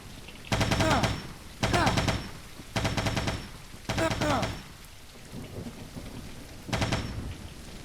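A stormy scene in a first-person shooter, with steady rain and loud, repeated thunder crashes in heavy bursts. The crashes come roughly once a second at first, then fade into rain before one last strike.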